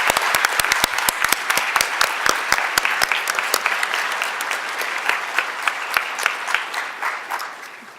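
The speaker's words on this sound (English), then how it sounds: "Can I please just have one more round of applause for those individuals?" An audience applauds steadily at an awards ceremony at a law school, sharp claps forming a dense, sustained round that thins slightly toward the end.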